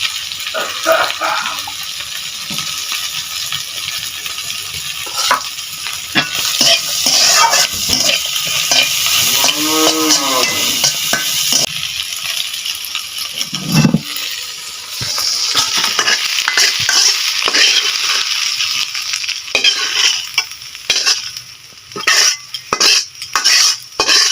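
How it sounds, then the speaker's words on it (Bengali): Prawns sizzle steadily in a hot pan while a utensil scrapes and stirs them, producing frequent clinks and rattles over a continuous frying hiss. "আর এখন আর একটু বেজে নেবো"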